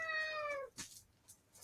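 A house cat gives one clear, falling meow up close, followed by a few soft clicks and rustles.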